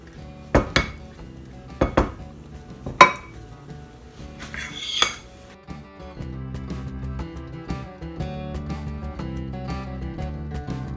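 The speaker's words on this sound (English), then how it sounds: "I'm just going to use my ice cream size scoop and start dropping these by the scoopfuls." An ice cream scoop drops cheddar biscuit dough onto a parchment-lined metal baking sheet, giving a few sharp clinks and clanks of metal on the pan, then softer scraping and handling noises, close by with no talking.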